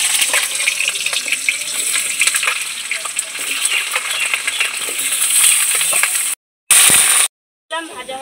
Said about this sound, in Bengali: তেলটা গরম হয়ে গেছে। এবার আলুটা দিয়ে দেবো